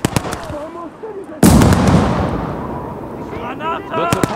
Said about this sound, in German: Eine Granate werfen!